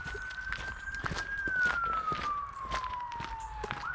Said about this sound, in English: as I hear an ambulance going past